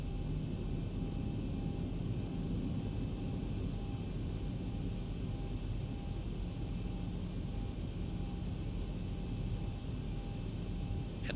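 A Zibo Boeing 737-800 in X-Plane 12 on its takeoff roll, heard as a steady, dense roar of engine thrust and rumbling noise that holds at an even level throughout, close and unbroken.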